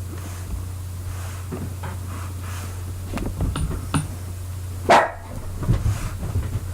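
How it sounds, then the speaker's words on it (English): Small dog barking indoors, a few sharp, separate barks rising over a low steady hum, with one louder bark near the end. "Little dog."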